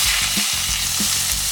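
Boiled onions and a few chilies frying in a pan give off a loud, dense, unbroken sizzle, close by, with low thumps of stirring underneath.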